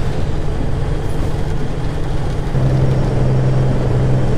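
Engine of a Peterbilt-style Viper 389 custom truck in Euro Truck Simulator 2, a steady loud low drone with a humming tone that grows stronger midway, heard alone without talk.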